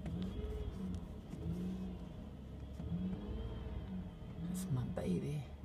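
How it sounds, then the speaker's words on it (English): A car engine revs close by in several rising and falling pulls, low and moderately loud, with quiet voices murmuring over it. "Rev up the engine?"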